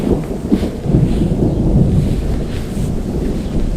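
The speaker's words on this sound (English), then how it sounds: "we have a very big cumulonimbus storm cell" Thunder from a large cumulonimbus storm cell rolls as a deep, continuous rumble with gusty wind buffeting the microphone, loud and sustained throughout.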